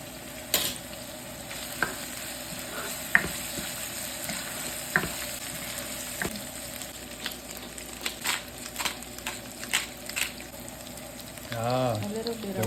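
Minced garlic and ginger fry in a pan for a creamy beef curry, giving a steady low sizzle with scattered sharp clicks and taps of stirring, and a brief louder scrape toward the end.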